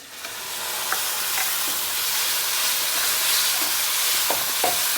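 Tomato puree hits hot, sizzling masala in a pan and is stirred in, giving a steady broadband frying hiss throughout with a few soft spoon scrapes and taps.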